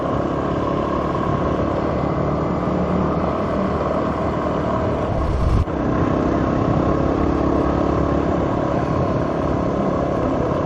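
Motorcycle riding along a paved county road, its engine a steady, loud, continuous rumble close by with wind noise throughout and a brief dip just past the midpoint.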